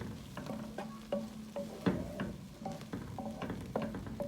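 Chopped vegetables and cabbage sautéing in a pan for white sauce pasta, with garlic in the mix: a steady soft sizzle broken by repeated scraping stirs and light clinks of a spoon, close and moderately loud, with no talking.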